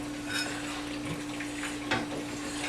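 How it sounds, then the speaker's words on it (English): Flour and heavy cream are stirred together in a pan, a soft wet stirring and light scraping under a faint steady hum, with a couple of small clinks. "We're going to start stirring these."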